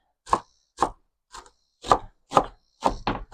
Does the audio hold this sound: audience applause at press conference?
no